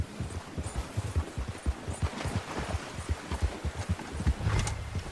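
A horse gallops in Red Dead Redemption 2, its hooves striking in a steady, rhythmic clip-clop that stays close and even throughout, swelling slightly louder near the end.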